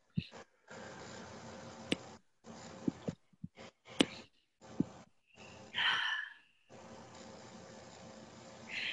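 Deep breaths taken at the close of a meditation session, several slow, audible inhales and exhales separated by gaps of near silence, with a few soft clicks between them.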